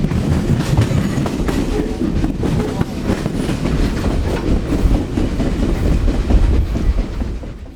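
Reading and Northern steam locomotive 2102 hauls a train upgrade through the Lehigh Gorge, with continuous rumbling and clattering wheels on rails heard from close by, no voices.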